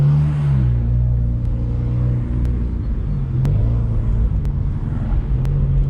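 A Ford Mustang EcoBoost driving, heard from inside the cabin as a loud, steady engine drone and road rumble, with the pitch shifting slightly through gear changes and light ticks over the constant noise.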